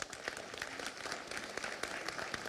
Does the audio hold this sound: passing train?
no